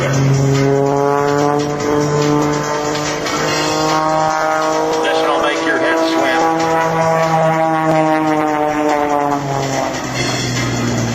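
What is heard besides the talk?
Extra 300 aerobatic airplane engine and propeller at air show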